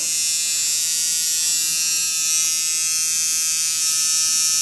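Electric razor shaving skin before a tattoo, a steady close high-pitched buzz holding constant the whole time with no voices over it.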